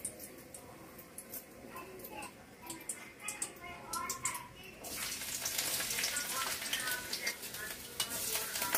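Chopped garlic, ginger and onion sautéing lightly in a small amount of oil in a pan, a steady sizzle with stirring scrapes that grows louder and brighter partway through.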